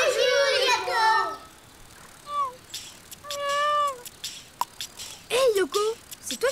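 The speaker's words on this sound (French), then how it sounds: "Hé Yoko, c'est toi qui fais miaou?" Cartoon cat meows several times, short rising-and-falling cries scattered between bursts of a child-like voice speaking, fairly close and clear in a playful animated scene.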